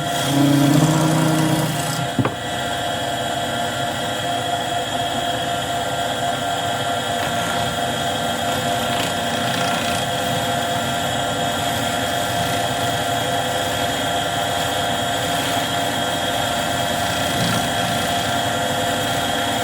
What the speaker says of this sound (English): So I'm just gonna hit it with the scraper.